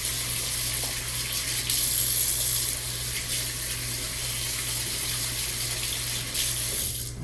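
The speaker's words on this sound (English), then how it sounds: "I'm going to wash my hands again" Hands washed under a running kitchen tap while baking bread, a steady close splash and gush of water that continues with little change for the full stretch, with no talking over it.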